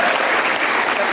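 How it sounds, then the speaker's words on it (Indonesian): Audience applause at an Indonesian religious lecture, a steady, dense wash of clapping that fills the whole moment loudly and evenly with no voices on top. "Tepuk tangan."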